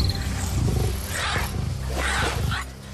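Three lions roar and growl in the wild while confronting a mother honey badger, deep rumbling roars swelling and fading in overlapping bursts, loud and close.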